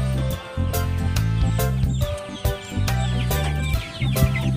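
Three-way cross backyard chickens (Tanaka, Dragon Cross, Old Hulo, Texas and native lines) cluck and call continuously in a busy, close-up flock, with overlapping bursts and brief louder squawks, no talk.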